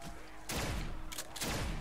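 Shotgun blasts in Black Ops 3 custom zombies on PC, three loud booming shots in quick succession with short decays between them, close and dominant.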